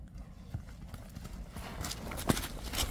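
Hooves of a mature horse clip-clop at a steady walking pace over a noisy outdoor background, moderately near, with a sharper knock standing out near the end.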